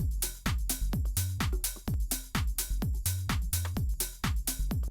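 Drum kit playing together with a bass line, dense and loud, with tight rhythmic kick and snare hits over deep sustained bass notes in a steady groove.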